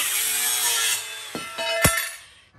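A DeWalt angle grinder fitted with a cutting disc slices through metal plate, giving a loud, steady, close-up grinding whine with a few rough bumps before it winds down and fades at the end.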